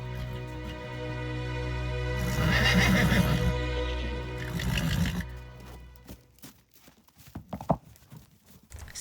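A horse neighs loudly in a long, shrill whinny at a barn where other horses are being stabled, followed by hoof clops and thuds close by, with no talk.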